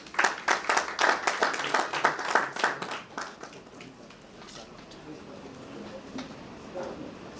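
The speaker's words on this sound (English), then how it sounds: "Let us give him a round of applause." A small crowd claps in a burst of applause that fades after a few seconds into quieter murmuring room noise.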